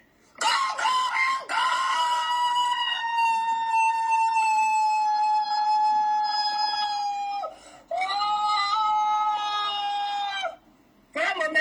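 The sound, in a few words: rooster crowing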